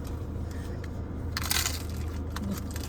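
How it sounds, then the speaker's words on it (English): A sharp crunch of biting into a crisp taco stands out briefly over quiet background noise. "Hear that crunch?"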